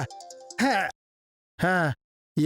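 A short electronic ringtone plays, followed by two loud bursts of a person speaking with silent gaps between them.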